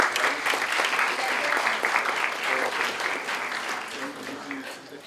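Audience applause at an award ceremony, the valedictory event of a national moot court competition; dense, steady clapping from a crowd that stays loud for the whole stretch and tapers only slightly at the end.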